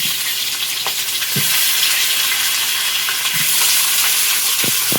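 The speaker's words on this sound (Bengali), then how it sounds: "আলুগুলো দিয়ে ভেজে নেব" Potatoes fry in a pan over a loud, steady hiss of hot oil, with a few soft scrapes of a spatula spaced a couple of seconds apart.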